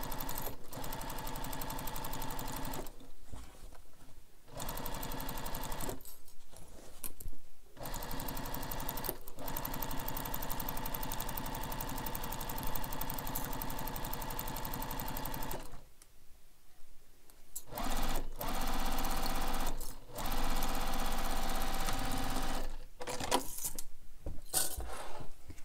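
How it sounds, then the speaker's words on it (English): Close by, a sewing machine runs across a seam on a carryall bag, a steady mechanical whirring hum broken by several short pauses before it starts again. "So again, sewing this with the seam allowance given in the pattern. Sew all the way across."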